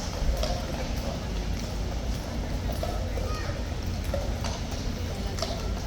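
Horses at Horse Guards with hooves clip-clopping intermittently amid a dense crowd murmur, people chattering nearby over the steady background noise.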